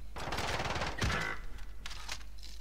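Stoner machine gun firing in Warzone Season 5, a dense rapid burst of automatic fire that runs for about a second and a half, then gives way to quieter game noise and a couple of fainter distant bursts.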